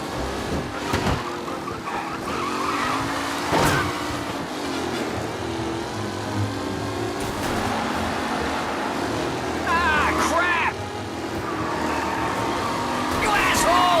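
Race cars at speed in the Mafia video game, on the Lost Heaven Circuit, make a continuous engine roar with a few sharp tire squeals near the end. A voice talks over them.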